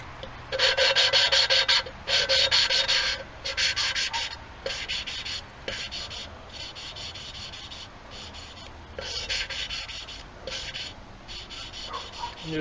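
Engine valve on a Chevrolet S10 Blazer head being lapped with a suction-cup-on-a-stick tool, giving repeated rhythmic bursts of gritty rasping and rubbing, close and fairly loud, with short pauses between strokes.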